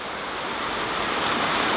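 Water rushes steadily out of a canal lock through opened gate paddles, a loud continuous broadband roar that gradually swells, with no talk.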